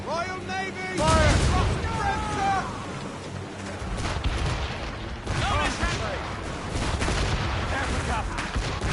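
Warship cannons in a naval video game boom in repeated heavy volleys among crashing battle noise, while voices shout over the gunfire.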